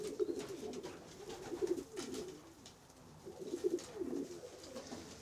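Young pigeons coo in soft, repeated throaty bursts inside a spacious young pigeon loft, moderately close, with two clusters of calls separated by a quieter gap and faint background noise.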